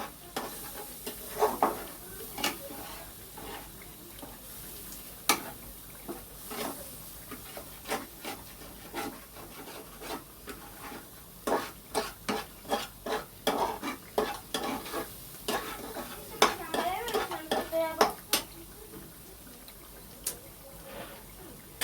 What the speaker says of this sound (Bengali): এদিকে দেখো পটলটা একটু নেড়ে চেড়ে দিচ্ছি।